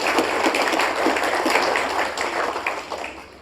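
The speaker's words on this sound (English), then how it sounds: "Let's give them a round of applause." Congregation at a Sunday church service giving a round of applause, dense steady clapping from many hands filling the room, fading slightly toward the end with no talk over it.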